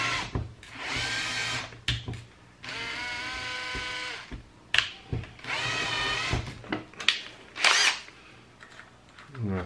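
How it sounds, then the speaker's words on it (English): A power drill boring a 3 mm hole into a broken screw lodged in a circuit breaker, running in several sustained whining bursts separated by short pauses and clicks, close and fairly loud. "I will first do it in the way it will drill the hole clockwise and then anti-clockwise"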